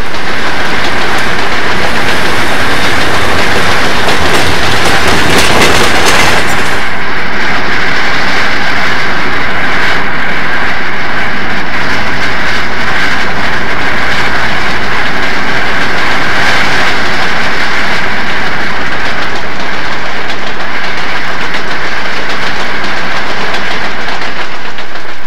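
A cab-forward steam locomotive hauls a train over Donner Pass near Crystal Lake and Cisco, with a continuous loud roar and rhythmic clatter that drops somewhat in intensity partway through.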